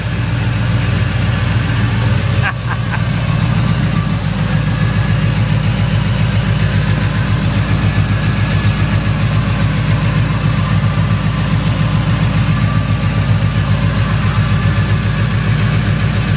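A 1968 Chevelle engine idles steadily with fresh headers, a close, rumbling low throb with a rhythmic lope that carries on unbroken apart from one brief knock near the start.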